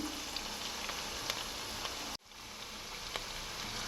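Onions and a pinch of turmeric fry in hot oil with a steady, close sizzle that cuts out abruptly for a moment midway, then resumes at a slightly lower level.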